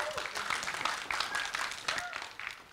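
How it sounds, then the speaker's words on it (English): An audience at a school debate competition claps steadily for a speaker, a close and continuous burst of applause with faint voices mixed in. "Let's give her a round of applause."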